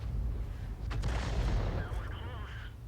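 Artillery gun on an Object 261 self-propelled gun firing in a tank video game, one heavy boom with a rumbling tail amid game ambience.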